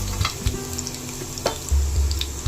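Garlic sizzles in hot oil in a pan, a steady close frying crackle with occasional scrapes and knocks as it is stirred, no voices.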